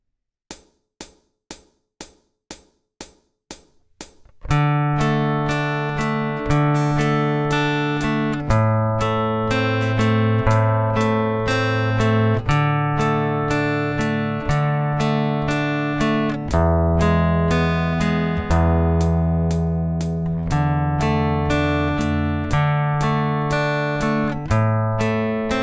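Slow fingerstyle guitar bringing two chord lines together, with ringing plucked notes and chords over a steady metronome click that plays alone for a few seconds before the guitar enters.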